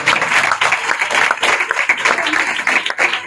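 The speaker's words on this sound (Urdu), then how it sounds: "آئیے خداوند کے جلال کے لیے زوردار تالیاں" A church congregation at a New Year service claps loudly together, a dense, slightly uneven burst of many hands sustained throughout.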